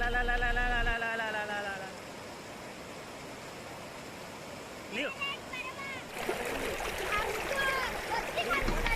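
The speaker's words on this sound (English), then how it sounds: "Here we sat beside the stream and ate the food hearing the sounds." Pure, clear stream water flows and splashes continuously at a scenic spot near the Brahma Sagar reservoir, a steady rushing hiss that swells louder toward the end, with a voice talking over it.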